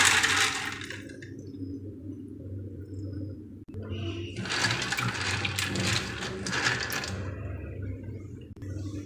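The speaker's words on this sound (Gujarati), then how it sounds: "એને 3-4 વાર પાણીથી સાફ કરી લઈએ" Dried chickpeas being washed with water in a bowl: a short burst of rattling and sloshing, a pause, then a longer stretch of grainy splashing and clattering, close and fairly loud, with a steady low hum underneath.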